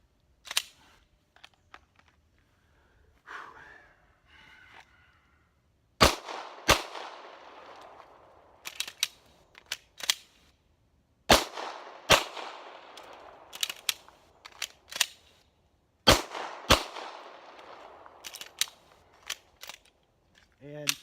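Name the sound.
handgun shots fired during shooting drill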